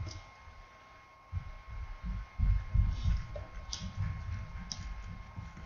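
A low, rhythmic throbbing pulse plays in the game Slime Rancher. It starts quiet and grows louder after the first second, repeating steadily over a faint hum and light ticking, with no talking.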